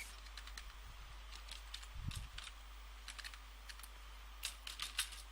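Keystrokes on a computer keyboard while C code is typed, a sparse run of light, close clicks in irregular clusters over a steady low hum, with no talking.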